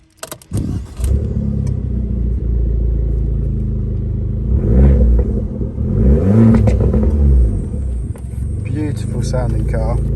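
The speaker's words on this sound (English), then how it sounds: "Sports exhaust, beautiful sounding." A 2017 Abarth 595 with a sports exhaust starts up and revs, a sharp bark followed by two rising and falling revs over a steady idle, close and loud, with a voice talking over part of it.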